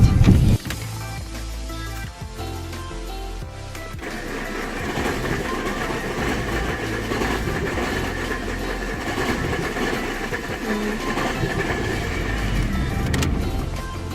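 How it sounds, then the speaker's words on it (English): A Saab 9-3 driving fast, its engine and road noise forming a steady, loud roar that holds for about fourteen seconds after a brief sharper burst at the start. "Driving fast."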